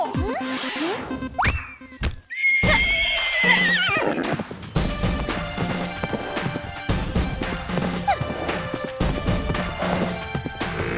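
Cartoon horse in a 3D animated comedy series, neighing loudly in a shrill whinny, followed by a crash, a springy boing and a run of busy clip-clop hoofbeats with comic effects.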